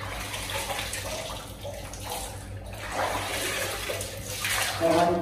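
Cold water flows out at the grave of Sayyid Abu Khamra, a shrine, making a steady gushing, splashing rush like a filling tub that swells louder toward the end, with faint talk in the background.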